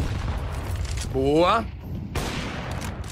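Gunfire in a Counter-Strike match at a pro event, heard as a short burst of sharp shots under excited commentator talk.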